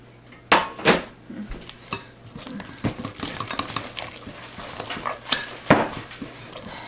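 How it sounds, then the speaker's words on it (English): Gluten-free banana bread batter with butter being mixed in a bowl, with several loud clanks of a utensil against the bowl followed by quicker, softer stirring and tapping. "Okay, I'll just quickly mix it."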